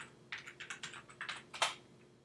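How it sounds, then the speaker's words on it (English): A quick run of keystrokes on a computer keyboard while a script path is entered, about a dozen close, crisp clicks in an uneven rhythm with one louder tap near the end, and no talking. "Alright, so typing path"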